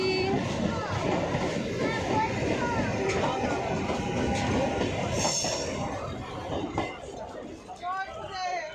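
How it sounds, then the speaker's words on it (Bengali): A train passes near a riverside ghat in Kolkata, its broad rumbling roar steady and loud for several seconds before easing off, with chatter and a crowd's babble mixed throughout. "ট্রেন চলে গেল, টাটা ট্রেন গাড়ি।"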